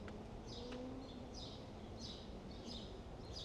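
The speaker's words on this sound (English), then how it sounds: "you hear the birds" Birds chirp in short, evenly spaced bursts on a tree-lined street in Sunnyside, Queens, moderately distant over a steady city hum.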